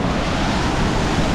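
Big surging ocean waves wash through a small Hawaiian bay, a loud, continuous rushing roar of surf close at hand, with some wind buffeting.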